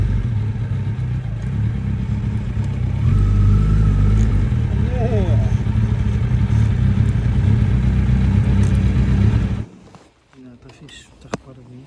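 A Suzuki Hayabusa motorcycle engine idles and revs loudly up close for several seconds, then cuts off abruptly, leaving quieter clatter and voices.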